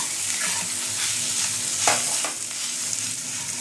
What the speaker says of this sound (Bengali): ভালো করে আলুটাকে ম্যাশ করে নিতে হবে ম্যাশার দিয়ে বা হাত দিয়ে